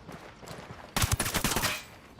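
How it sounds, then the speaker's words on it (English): Gunfire in the video game Ghost Recon Wildlands: after soft muffled pops, a loud burst of rapid automatic shots hits close, a dense rattling volley lasting about a second with no talk. "I'm opening fire."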